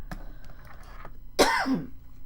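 A single rough throat clearing with a short cough-like burst, close and fairly loud, after a quieter stretch of faint background noise.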